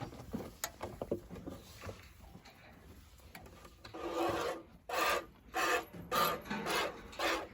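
A cow milked by hand into a bucket, milk squirting in rhythmic bursts, the strokes growing louder and more regular toward the end.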